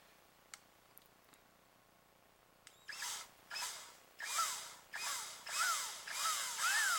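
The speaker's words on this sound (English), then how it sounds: "So I'm gonna go ahead and use an electric drill. This is cordless" A few faint clicks, then a cordless drill whirring in repeated short bursts while drilling a small resin model kit, its pitch rising and falling with each pull, fairly close.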